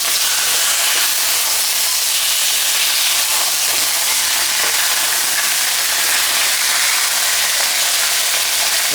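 Steak seasoned with sugar and cornstarch pan-searing Cantonese style, a loud, steady, dense sizzle and hiss that runs unbroken and close throughout, with no voices.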